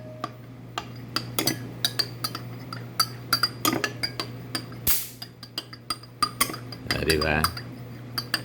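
A spoon stirs barley drink in a glass, producing rapid repeated clinks and chimes of metal on glass, close and fairly loud, with a brief voice and some liquid swirling partway through.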